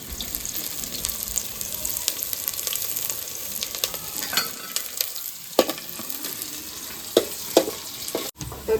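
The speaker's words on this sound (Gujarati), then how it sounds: "તો આપણે હવે જીરું નાખી દઈશું." Cumin seeds and onion frying in hot oil for a Kathiyawadi masala pulao, a steady low sizzle with occasional sharp clinks and stirring scrapes, no talking.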